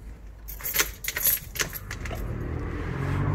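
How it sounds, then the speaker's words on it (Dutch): Doors of a physiotherapy practice being unlocked and opened, with keys jangling and clinking in several quick bursts up close, then fading into a low steady background hum. "Wij openen vervolgens alle deuren."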